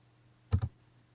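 Computer keyboard gives two quick, close keypresses in a row, like typing a command and hitting enter, over a quiet background with a low hum.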